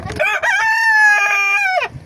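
A rooster crows once, close and loud, a rising then long sustained cock-a-doodle-doo that drops off at the end, standing alone without talk.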